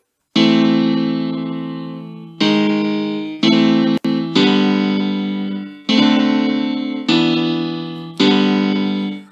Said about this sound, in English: Let's try out something else. Grand piano. See what that sounds like.